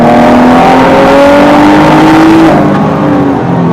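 A 2017 Ford GT accelerates hard on a track, its engine note climbing steadily and loud up close, then easing off abruptly near the end.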